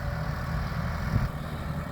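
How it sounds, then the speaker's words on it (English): A heavy tractor engine rumbles steadily nearby, a low drone that swells slightly as the tractor rolls past. "See the tractor go past."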